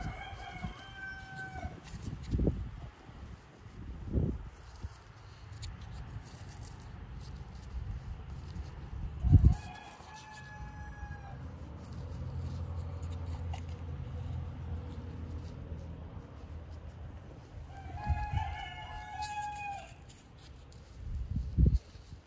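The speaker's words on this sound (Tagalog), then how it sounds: "Gutom na yata itong mga manok ko." Chickens and a rooster call out in bursts over steady low farmyard rumble, with scattered louder thumps nearby.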